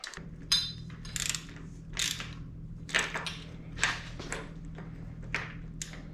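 A RockShox Recon suspension fork top cap being threaded back down by hand: a series of short metallic clicking, ratcheting bursts at an irregular rhythm over a steady low hum, close and fairly quiet.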